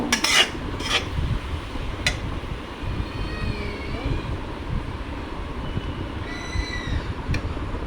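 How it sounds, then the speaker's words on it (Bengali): Turmeric, chili powder and roasted cumin powder are sautéed in mustard oil in a pan for an egg bhuna, with steady scraping stirs and a few sharp utensil clicks over a low background hum. "এখন আমি এগুলোকে ভালোভাবে কষিয়ে নেব"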